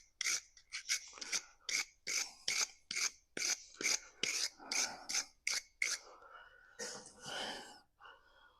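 Pliers grip and scrape at stuck pieces of cured resin, making a close series of short sharp rasping scrapes in a fairly regular rhythm of about a dozen strokes, followed by a longer, softer rub.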